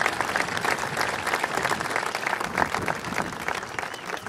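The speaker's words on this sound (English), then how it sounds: "Let's give that a round of applause." A round of applause for a valedictorian at a Jenison High School ceremony, full crowd clapping that runs dense and steady throughout, with a faint background murmur.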